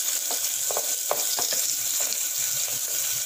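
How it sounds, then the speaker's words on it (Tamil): Chopped onion with ginger garlic paste frying in a pan for a Tamil mushroom masala gravy, a steady close sizzle with a few soft stirring clicks throughout. "ஒரு வெங்காயத்தை சேர்த்துக்கலாம். அது கூடவே இஞ்சி பூண்டு பேஸ்ட் சேர்த்துக்கலாம்."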